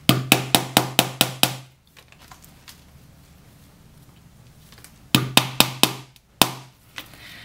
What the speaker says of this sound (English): I'm just going to start hammering more nails at around a 2 centimeter interval